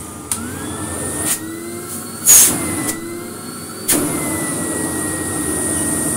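An old AEG Electronic 506 vacuum cleaner runs with a steady, loud roaring whine. A few sharp knocks and bumps sound over the motor noise.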